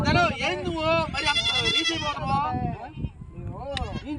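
A lamb bleats repeatedly in close, wavering cries that overlap with men arguing nearby, the animal's calls rising above the talk in several short bursts.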